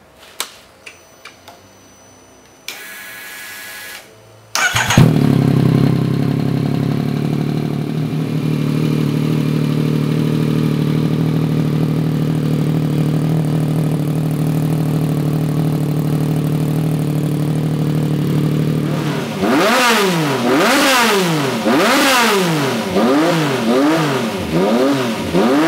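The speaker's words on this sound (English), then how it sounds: "We'll fire it up, give you a listen to how it sounds." Turbocharged Yamaha MT-09 motorcycle running on E85, a few clicks and a starter whir, then the engine fires into a loud steady idle before a series of sharp repeated revs rising and falling near the end.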